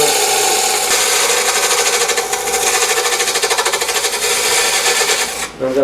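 A woodturning tool cuts a wooden box blank spinning on a faceplate lathe, giving a loud, steady, rapidly pulsing chatter that holds for several seconds before a sudden dropout near the end.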